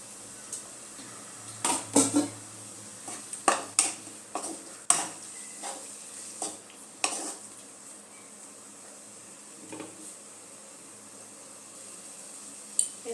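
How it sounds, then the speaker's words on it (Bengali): A spoon stirs egg and potato curry with chopped tomato in a pan, giving soft scattered clinks and scrapes against the metal over a faint steady background hiss. "ভালো মতো মিশিয়ে নেব।"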